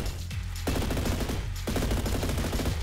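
Automatic weapons fire in a first-person shooter video game during an energy assault match, two sustained rapid-fire bursts of sharp, evenly spaced shots ringing out loudly, separated by a brief gap.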